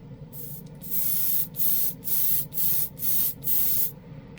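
Airbrush with a 0.28 nozzle spraying paint in a series of about six short, steady bursts, each a hissy spray of roughly half a second separated by brief pauses, close and fairly loud.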